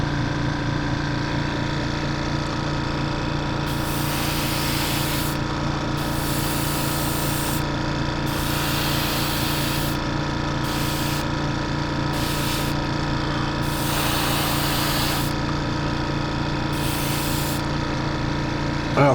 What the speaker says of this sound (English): you won't have to listen to the air compressor run